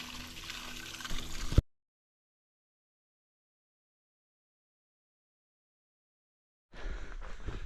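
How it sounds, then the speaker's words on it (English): Water gushes hard from a pipe along a trail, a loud churning rush heard close up for about a second and a half, then silence, before the flow returns at the end. "the pipe with the most powerful water stream I've seen on trail"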